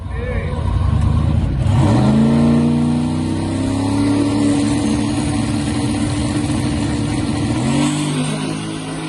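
A drag race car launches down the strip on a Christmas-tree start and makes a full pass, its engine revving hard with rising gear-change sweeps, loud and close, then fading as it runs away.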